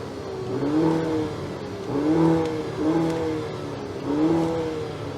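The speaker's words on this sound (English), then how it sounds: "We should hear how those quad exhaust tips sounds when it comes to that beating heart." A 2025 Maserati Grecale Modena engine revs repeatedly through quad exhaust tips, rising and falling in pitch in four rhythmic surges with a deep, throaty exhaust note, fairly close.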